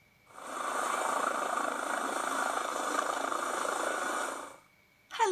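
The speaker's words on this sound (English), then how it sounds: "Helicopter" A helicopter flies steadily close by, its broad rotor and engine roar holding constant for about four seconds before cutting off, with a brief separate noise at the very end.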